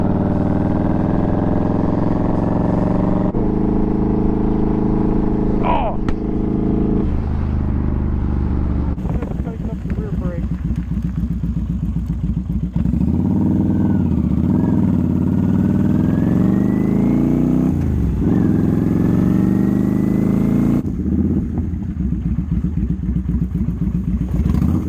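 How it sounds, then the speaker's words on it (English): A Kawasaki Drifter motorcycle engine runs steadily throughout a ride, its loud low rumble rising and falling as the rider shifts and accelerates, with wind buffeting over it. "Let's get on this bike. Let's go for a ride because I need one bad."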